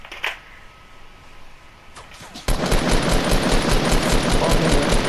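Rapid automatic gunfire in a Fortnite duo match on PS4, a sustained loud burst of dense repeated shots after a quiet start with a few faint earlier pops.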